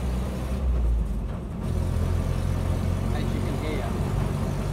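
The engine of a Land Rover Series 3 109 with a rusted, worn-out exhaust runs with a steady, loud, rough low rumble that holds throughout, heard close by.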